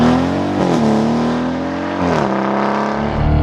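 A Novitec-tuned Lamborghini Urus SE SUV's V8 engine roars close and loud, holding a steady rich drone with quick pitch dips and rises between revs, rumbling continuously throughout.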